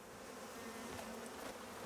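Bees buzzing in the survival video game Icarus, a faint, continuous insect drone with a slight wavering flutter, alone with no talk.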